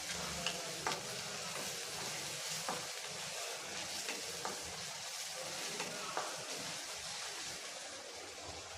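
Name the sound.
onions frying in oil, stirred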